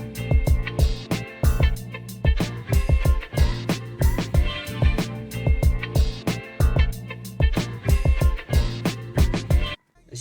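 A hip-hop beat produced in FL Studio, melody and drum pattern playing together: loud, steady punchy drums and bass under a looping melodic line, no voices, stopping abruptly near the end.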